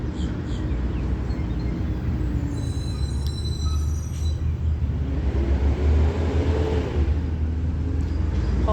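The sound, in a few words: garbage truck driving past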